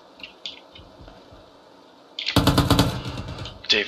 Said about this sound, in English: I see I'm shooting in.